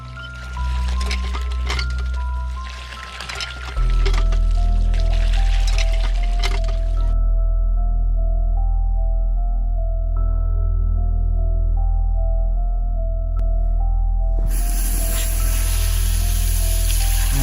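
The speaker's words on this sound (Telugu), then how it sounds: "నాకు కూడా బిందె దొరికింది, పదంగా నీళ్ళు పట్టేద్దాం" Water pours from a tap into a metal pot in a village setting, a loud continuous gushing fill with a shifting ringing tone as the vessel fills, preceded by some clattering handling.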